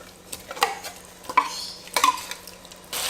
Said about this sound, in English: And mix the tuna with the mixture until well cooperated.